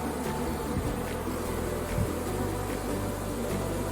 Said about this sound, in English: Bees down here in the ground that are bearding will move up.